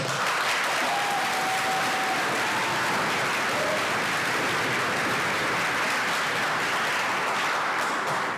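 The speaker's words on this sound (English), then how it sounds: "So please join me in a round of applause to thank them all for their support." Audience applause at an orchestra spring concert, a broad, even roar of clapping that carries on at full strength for over eight seconds without speech.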